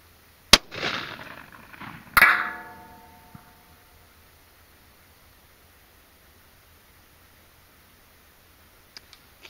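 A .243 rifle firing 90-grain Sierra Gamechanger rounds at 1000 yards gives two sharp, loud, close reports about a second and a half apart. Each crack trails off in a short echo, followed by near silence.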